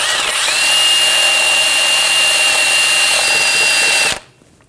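A power wire brush scrubs brake parts on a 2006-2010 BMW 550i during a rear brake job, giving a loud, continuous high-pitched whirring grind close by that runs steadily and then cuts off abruptly, leaving quiet.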